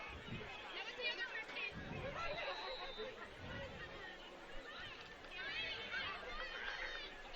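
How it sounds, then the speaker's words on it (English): Crowd at a high school football game between Fond du Lac and Kimberly, a dense wash of distant chatter and murmur with scattered shouts and a brief laugh, continuous throughout. "Nice crowd on hand here again tonight."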